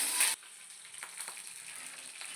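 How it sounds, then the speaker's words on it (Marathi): Curry leaves and green chillies fry in hot oil, with a loud burst of sizzle at first that quickly settles into a softer, steady crackle and a few light pops. "मी कडीपत्ता टाकलेला आहे कढीपत्ता टाकून घ्यायचा आहे आपल्याला"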